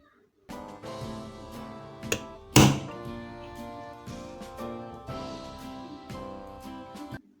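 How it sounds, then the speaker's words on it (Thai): A fan repair tool drives a spring onto the bushing of a HATARI oscillating fan, giving a series of sharp metallic taps and knocks with ringing tones, one especially loud strike partway through, close and with no talking. "ประโยชน์ที่สองตอกสปริงบังคับบูทพัดลม"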